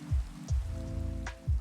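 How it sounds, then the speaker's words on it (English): Rain in a video game, a steady patter with repeated low thumping pulses and a faint whistling tone, moderately loud and continuous, with no speech. "Game's having a hard time because of the rain."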